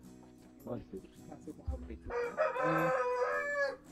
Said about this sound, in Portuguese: Vou mostrar os frangos ali, ó.